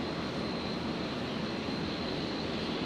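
A Qantas Link Dash 8 Q400 turboprop on landing approach to runway 01 right at Brisbane International, a steady broadband engine roar with a faint high whine, continuous and unvarying throughout.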